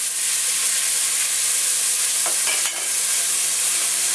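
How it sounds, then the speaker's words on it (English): Chopped green pepper and minced onion sauteing in olive oil, a steady close sizzle and hiss that holds evenly throughout with a faint stirring scrape near the middle. "what I've got here is 1 chopped green pepper and 1 whole minced onion. We're going to go ahead and saute that."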